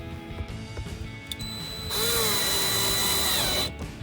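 Power drill boring pilot holes for the front splitter screws on a 2018-2023 Mustang GT track package, a short whine that spins up and holds loud for about two seconds before stopping, with faint handling noises around it.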